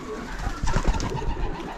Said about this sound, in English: But there's some cool birds up here.